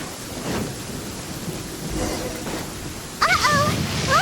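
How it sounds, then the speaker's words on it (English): Thunder rumbles low through a steady rain in a stormy scene from Genshin Impact, with a sharper burst near the end where a voice cuts in over the downpour. "Uh-oh! Lightning storm!"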